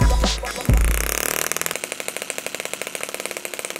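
A retro-styled four-stroke 1.6cc gasoline model engine starts with a few sharp pops and bursts, then settles into a rapid, even chugging beat, close and loud with no talk.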